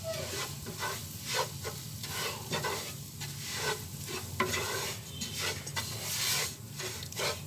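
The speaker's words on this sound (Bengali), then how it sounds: "আমি আধা কাপ পরিমাণ ঘি দিয়ে নিয়েছি এবং আমি সুজিগুলাকে দিয়ে দিচ্ছি। সুজিগুলাকে খুব ভালোভাবে ভেজে নিতে হবে।" Semolina fries in half a cup of ghee while being stirred steadily, producing a soft sizzle broken by repeated rhythmic scraping strokes of the spoon across the pan, close and clear with no talk.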